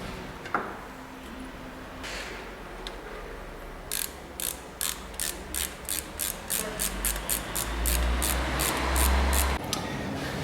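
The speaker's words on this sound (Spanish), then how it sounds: "Voy al otro lado y pongo el otro tornillo." Ratchet clicking in short regular bursts while tightening an intake manifold bolt on a Yamaha Drag Star 650 motorcycle, close and fairly loud, with a low hum underneath and no talking.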